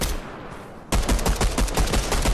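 Rapid burst of gunfire in the video game Fortnite, starting abruptly after a second of quiet and continuing as a loud, evenly spaced string of sharp shots close up.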